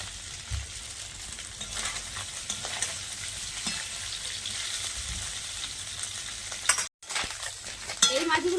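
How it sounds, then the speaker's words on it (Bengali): Fish fries in oil in a pan with a continuous close sizzle, punctuated by utensil stirring and scraping, with a brief dropout and louder crackling near the end. "মাছটা আর একটু তেল দিয়ে ভেজে নেব।"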